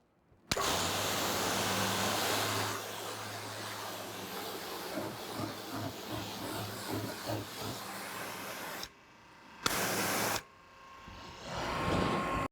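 A Dasisseo DCS-M200T 200-bar high-pressure washer, Korean-made, sprays water in a loud steady hissing roar with a low motor hum underneath, cutting out briefly twice near the end before resuming.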